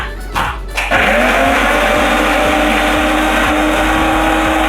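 A blender whirs loudly and continuously while mixing cashew butter, starting after a brief quieter moment and holding a strong steady motor drone with a rhythmic churning pulse, close up and alone.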